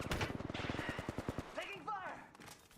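Rapid automatic gunfire in a shooter video game, a dense burst of close shots for about a second and a half, followed by a voice speaking over softer game sounds.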